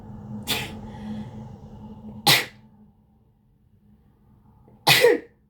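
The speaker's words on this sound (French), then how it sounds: "Pardon, je vais éternuer" Three sharp sneezes, close and loud, spaced a couple of seconds apart, with quieter pauses between them.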